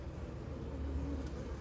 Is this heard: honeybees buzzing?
yes